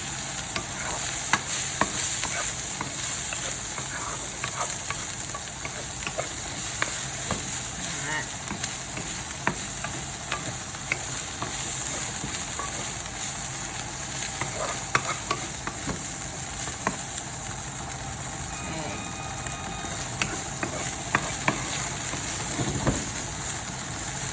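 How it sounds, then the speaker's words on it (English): Tofu sizzles steadily in hot oil in a pan for a keto pad thai, with scattered clicks and scrapes from tossing and stirring throughout. The frying stays dense and continuous, and no one speaks. "Let the tofu make contact with the pan for a little bit before we toss it so it can have some time to develop that browning."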